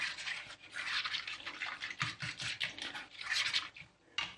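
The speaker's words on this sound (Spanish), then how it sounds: "Poco a poco vamos agregando el agua." Water poured gradually into a mixture for a piñata paste, a steady close splashing and trickling that rises and falls in bursts throughout, with no talk.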